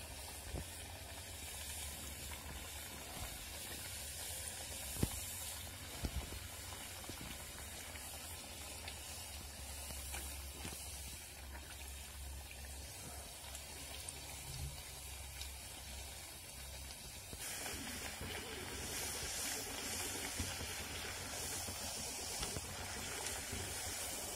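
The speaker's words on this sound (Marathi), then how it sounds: "अशा प्रकारे वडे तळून घ्यायचे।" Cucumber vadas (tavsache vade) frying in hot oil give off a steady, close sizzling hiss that carries evenly throughout, with no talking.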